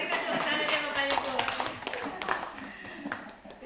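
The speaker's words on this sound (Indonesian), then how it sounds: "Oke, berikan tepuk tangan yang Bapak Ibu" An audience at an Indonesian teachers' training session claps in a burst of applause, dense at first and then thinning and fading over a few seconds.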